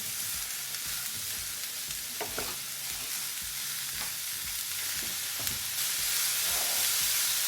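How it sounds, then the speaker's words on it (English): Riced cauliflower fries in a pan with a steady, close sizzle and crackle, broken by occasional scraping stirs, with no voices. "our cauliflower is starting to get translucent and it's slightly brown"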